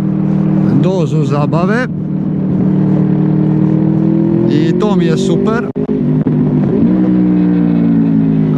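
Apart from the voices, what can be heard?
Honda Crossrunner 800 motorcycle engine revving as VTEC opens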